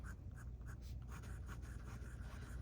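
A Sailor Pro Gear fountain pen with a 14k gold fine nib writing on paper, soft rhythmic scratching strokes up close and faint against a low steady hum.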